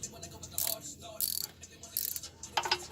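A socket wrench ratchets a wheel speed sensor into place on a 2007 Jeep Wrangler, four short bursts of quick clicking spaced about half a second apart, close up and moderately quiet.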